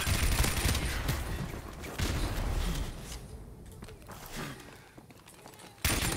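Repeated gunshots from a first-person shooter video game, bursts of fire with some footsteps, fairly loud throughout with a sharp burst near the end, no speech over it.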